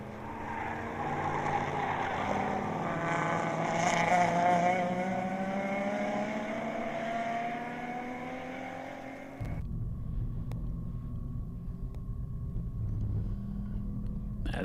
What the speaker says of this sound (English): As the Corvette takes to the backside of the racetrack, through the corners, through the twisties.